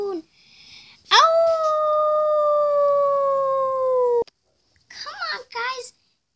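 A voice imitates a long howl at the moon, one sustained rising-then-level wail lasting about three seconds, loud and close, followed after a pause by brief excited vocal sounds.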